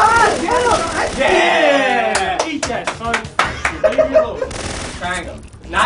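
Rapid gunfire from the Syphon Filter video game, a cluster of sharp cracks and short bursts in the second half, mixed under constant excited chatter from players.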